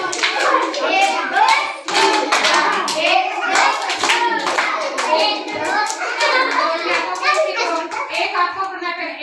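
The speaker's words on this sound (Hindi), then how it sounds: "ऐसे से आप ही आके ऐसे ताली मार लें" Group of children clapping their hands together in counted rhythm during a classroom activity, a quick series of sharp, close claps mixed with kids' voices and an adult talking over them.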